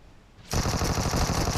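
Rapid automatic gunfire in PUBG Mobile erupts suddenly after a brief quiet moment, a dense sustained burst that is loud and close.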